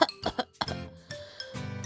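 A voice imitating coughing with a few short, rough bursts close up, followed by hoarse vocal sounds in a children's toy-truck play setting.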